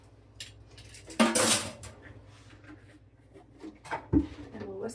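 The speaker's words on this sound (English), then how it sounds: "And we'll whisk it together." A whisk or spoon clinks and clatters against a bowl while cinnamon-roll glaze ingredients are mixed, with two sharper knocks among softer scraping and faint background voice.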